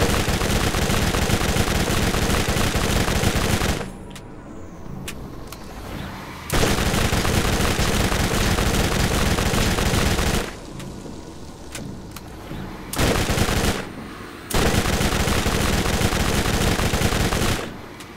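Dense, sustained automatic gunfire from the video game Borderlands 2, loud bursts running for several seconds at a time, broken by short quieter gaps.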